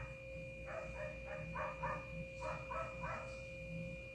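A dog barks in a quick run of yelps that rise toward higher, strained cries, heard at a distance beneath a constant electrical hum.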